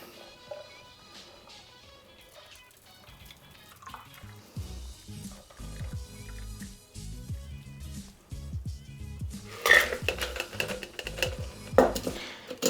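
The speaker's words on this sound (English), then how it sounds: "we're going to double strain this using, of course, our Hawthorne strainer and our fine strainer" A cocktail poured through a Hawthorne strainer and a fine strainer, with liquid splashing into a glass alongside light clinks of metal barware and glass, growing louder toward the end.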